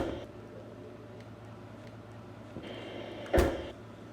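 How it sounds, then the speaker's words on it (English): In a quiet room with a faint hum, a single sharp bang sounds once near the end, loud and abrupt against the stillness. "Sounds like a knock."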